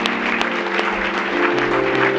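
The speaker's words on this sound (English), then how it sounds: "So please, a big round of applause for Julia." Audience applause at a comedy night program, a short burst of dense clapping from a crowd filling the room, loud and steady.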